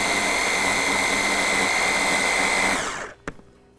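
An electric mixer whirs steadily at high speed, beating egg yolks for a diet herb mayonnaise, then cuts off abruptly near the end, followed by a single short clink.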